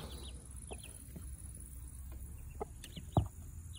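Chickens clucking quietly on a rural farmstead, a few soft scattered clucks over faint background hum, with one louder close cluck near the end.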